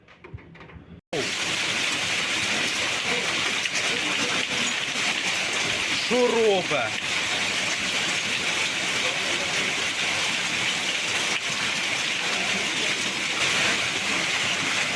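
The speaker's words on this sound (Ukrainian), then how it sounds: "град пішов" Hail pours down during a thunderstorm as a dense, continuous hiss and patter that starts abruptly and holds steady, with a brief voice speaking partway through.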